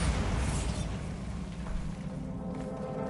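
A Bombarda blasting spell from Hogwarts Legacy bursts in a dense, rumbling explosion that sustains a loud, low roar for about three seconds, with no talking over it.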